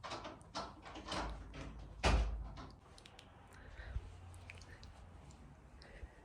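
Someone tries a locked door in a home, making several clattering knocks and rattles, with one sharp thud near the middle. Faint background noise runs underneath and a few softer clicks follow.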